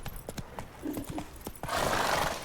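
A horse's hooves clip-clop in a steady walking rhythm in The Witcher 3, close and crisp, then give way to a louder burst of rushing noise, with a brief soft snort partway through.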